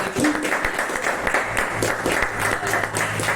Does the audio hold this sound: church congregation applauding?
yes